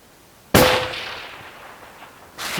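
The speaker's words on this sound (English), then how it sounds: "I'm going to shoot until you see it." Single rifle shot at an outdoor shooting range, a sharp close crack with a short echoing decay, followed by the start of another loud burst at the end.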